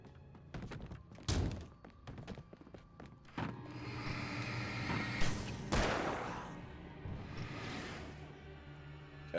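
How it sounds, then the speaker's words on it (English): A flashbang detonates in Alan Wake Remastered on PC, a sharp broadband blast followed by a long ringing, rumbling wash, with several other thuds and bursts scattered through the loud game soundscape. "Flashbang."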